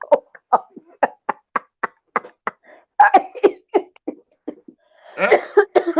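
A long run of short, sharp coughs in quick rhythm, close up, followed by a rougher, breathier coughing fit at the end.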